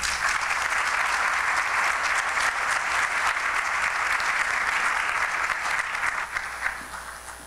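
An audience at a Rotary Club meeting breaks into sustained applause to welcome a speaker, a broad, even roar of many hands clapping that holds steady before tapering off near the end.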